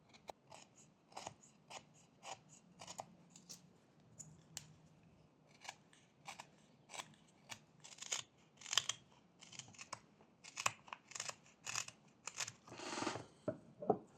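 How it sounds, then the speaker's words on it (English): A carving knife whittles away thickness from a small wooden beaver's tail, making a quiet, irregular series of short, crisp cutting and scraping strokes close up, with no talking. "I'm just pressing the blade a little bit into the wood from here and then cutting away some of the thickness of the tail"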